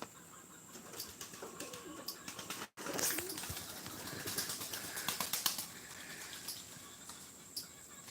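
Pigeons or doves cooing outdoors near a workshop where a raccoon sat in a trap overnight, with soft repeated calls and some wing flutter over a steady background hum and scattered clicks.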